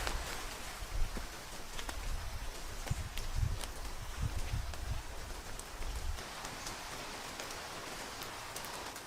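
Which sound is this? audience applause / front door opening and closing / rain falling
rain falling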